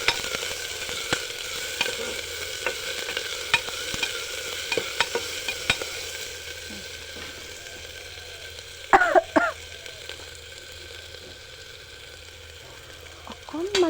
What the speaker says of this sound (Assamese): এতিয়া মই পিচি থৈ দিয়া আদা আৰু ৰচুনৰ পেষ্ট অকণমান দি দিছোঁ।